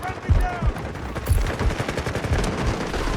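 Rapid gunfire rings out in the shooter video game Delta Force. Bursts of automatic fire and scattered single shots pile up loudly in a continuous fusillade, with a voice talking underneath.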